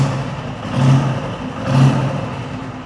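A Royal Enfield Bullet 500 standard 500cc vintage motorcycle engine runs steadily close by, its low thumping note swelling in two revs, with no talk.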